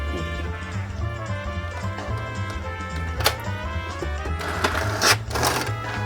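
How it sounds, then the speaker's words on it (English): An inkjet printer prints a colour photo, giving a steady low mechanical hum with repeated whirring carriage passes and a few sharp clicks and rattles near the end, fairly close and with no talking. "That's the sound of the printer working"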